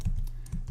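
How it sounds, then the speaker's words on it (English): Two or three quick keystrokes on a computer keyboard, muted and close, over a low background hum with no speech. "I'm going to type two kind of @ signs"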